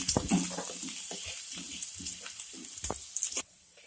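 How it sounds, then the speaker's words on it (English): Ginger sautés in a pan as a soft sizzle runs under a series of utensil scrapes and clinks, fairly close and moderately quiet, ending in a quieter stretch. "ginger, now saute them."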